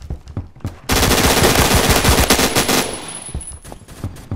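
Game gunfire: a few scattered shots, then a dense rapid burst of automatic fire lasting about two seconds, loud and close, tapering into a few more isolated shots.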